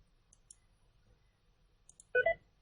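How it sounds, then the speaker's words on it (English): A computer mouse clicks sharply once near the end of a quiet stretch, with a couple of faint ticks before it and no voices. "I'm going to click on yep, okay, click on record."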